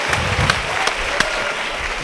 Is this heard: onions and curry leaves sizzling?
no